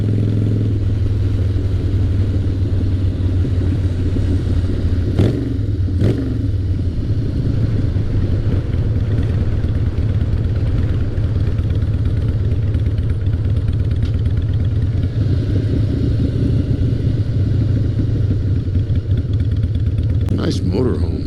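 A 2003 Harley-Davidson Fat Boy motorcycle engine rumbles steadily while riding on the road, a continuous deep low drone with a few brief bumps, while someone talks over it.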